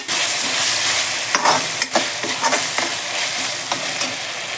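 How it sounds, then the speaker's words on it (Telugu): Tomato pieces frying with ginger and garlic in a pan, a loud, close, continuous sizzle broken by a few brief stirring scrapes. "అల్లం వెల్లుల్లి కూడా మంచిగా వేగిపోయింది ఇందులోకి మనము టమోటా ముక్కలు వేస్తాం"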